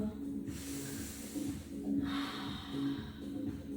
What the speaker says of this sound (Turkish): Nefes al ver.